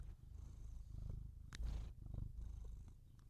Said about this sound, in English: you wanna purr into the mic, big guy?